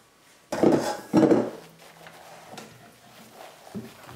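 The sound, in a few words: folding whipped egg whites into broccoli mousse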